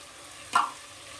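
A single brief stir of tomato paste and condensed coconut milk in a pan, a short scraping swish over a faint background sizzle.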